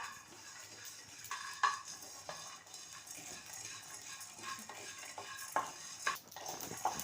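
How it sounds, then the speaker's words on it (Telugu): Lentils and fenugreek seeds frying in an iron pan for stuffed brinjal curry, a soft steady crackle and sizzle broken by occasional clinks and scrapes of a spoon stirring. "చూడండి చిట్టపట్ట చిట్టపట్ట వేగుతున్నాయి"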